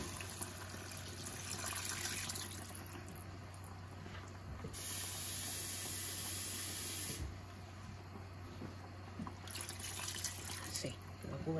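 Water is poured into a pan of sautéed vegetables, giving a steady, close hissing rush that briefly drops away twice before resuming, with faint talk in the background.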